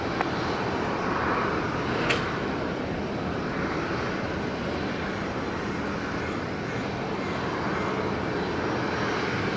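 A Boeing 717 airliner on final landing at Brisbane Airport, runway 19 right, its engines a steady, broad roar that holds evenly throughout at moderate distance, with no voices.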